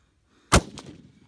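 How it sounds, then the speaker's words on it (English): A single sharp rifle shot, from a Mauser or Lee Enfield fired at a target, cracks loudly up close and is followed by a short echoing tail. "We'll keep shooting at it."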